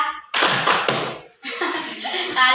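Classroom group claps in time on cue, a couple of quick bursts of hand claps, close and fairly loud, with brief gaps between them.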